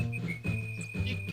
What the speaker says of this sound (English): Oh no, they're whistling.